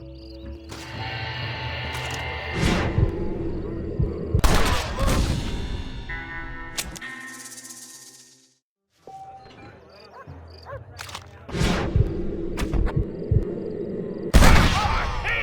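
Gunshots in a Red Dead Redemption shootout, with sharp loud reports scattered through a noisy scene, including a short silent gap before another volley of shots.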